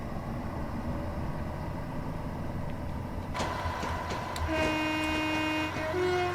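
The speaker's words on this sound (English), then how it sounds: "this is the standard 165 you get with the, I think it might even be a Kuju one, where you get with the Chiltern Mainline by Just Trains" Chiltern Mainline class 165 diesel multiple unit in Train Simulator, a steady low rumble of running gear that brightens midway with added rattles and sustained tonal whines from the traction, heard alone without talk.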